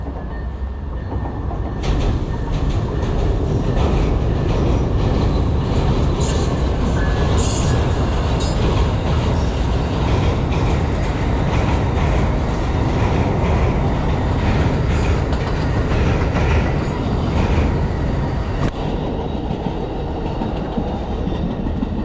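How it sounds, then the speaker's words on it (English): Train rolling across a bridge in New Orleans, a loud, continuous rumble with rhythmic wheel clatter and occasional metallic squeals, close by and sustained throughout without talk. "Hey, look at the train, man."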